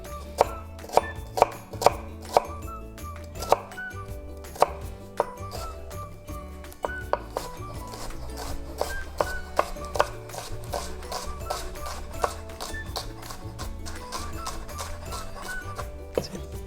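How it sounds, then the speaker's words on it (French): Knife finely chopping red onion on a cutting board: quick, crisp, rhythmic taps at a steady pace close by, continuing throughout with no voices. "On entend le bruit, hein, la fraîcheur des oignons."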